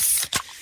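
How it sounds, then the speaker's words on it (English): A freshly opened fizzy Pepsi can gives a sharp, brief hiss of escaping carbonation, one close burst standing out against a steady background hiss. "that's the sound of a freshly opened fizz-filled Pepsi"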